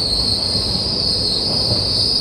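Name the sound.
train running, 16116 PDY MS Express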